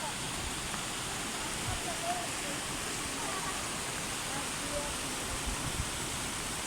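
A small waterfall in the Carança gorges rushes as a steady, even wash of water noise, close and constant, with no pauses.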